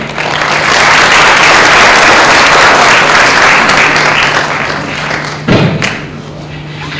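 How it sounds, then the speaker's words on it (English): Audience applause for speakers and moderators after a conference discussion session, a loud steady wash of clapping that holds for several seconds, with a steady low hum underneath and a thump near the end as it fades. "I would like to invite everybody to give a round of applause again to all our speakers and moderators"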